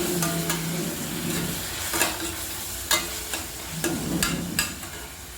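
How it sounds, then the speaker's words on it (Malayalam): Onions with ginger-garlic paste sauté in a little oil for a drumstick kuruma curry, a steady soft sizzle broken by sharp clicks and scrapes of a spoon stirring against the pan. "ഉള്ളി നന്നായിട്ട് വഴണ്ട് വരട്ടെ. അത് കഴിയുമ്പോൾ നമുക്ക് ഇഞ്ചിയും വെളുത്തുള്ളി പേസ്റ്റ് ചേർക്കാം."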